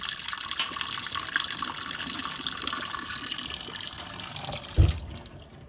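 Water running out of a fuel filter during cooling on a Jeep WJ 2.7 with a Mercedes E-Class engine, a steady close trickling and splashing that goes on throughout, ending with a short thump near the end.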